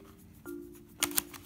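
Scissors snip open a Minions Mega Construx series 12 blind bag with two quick, close, crisp cuts after a steady low hum.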